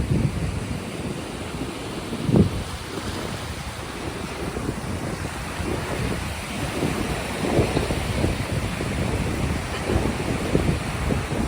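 Sea waves rush and wash onto Bheemili Beach near Visakhapatnam at night, a steady broad roar of surf with a few louder swells breaking close by, no voices heard.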